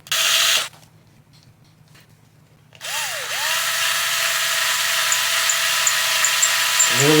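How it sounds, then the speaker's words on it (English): A powered screwdriver drives screws into the axle of a Vanquish VS4-10 RC crawler. A short whir is followed by a pause, then a longer, steady high-pitched whine with a rising start, close and loud. "caution you when you use a powered screwdriver"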